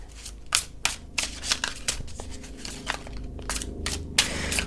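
A deck of tarot cards is shuffled by hand with repeated riffling and flicking bursts, close and brisk with an uneven rhythm throughout.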